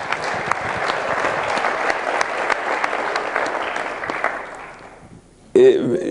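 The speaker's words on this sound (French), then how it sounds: "Je voudrais qu'on l'applaudisse pour le remercier." An audience applauding together in a room, a dense, steady burst of clapping that fades out after about five seconds before a voice begins.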